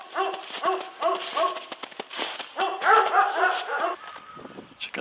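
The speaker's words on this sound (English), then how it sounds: "I'm scared of the dogs." Several dogs bark repeatedly behind a fence in a rural Russian village, close and loud, in quick overlapping bursts with some whimpering yips toward the end.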